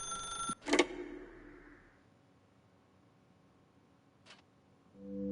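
A telephone in a video game gives a short electronic ring, followed by a second brief chime a few seconds later, with near silence in between.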